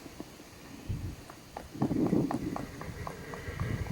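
Horse hooves knocking on a trailer floor during loading: several uneven clip-clop thuds, close and moderately loud, with a rustle and scrape between steps.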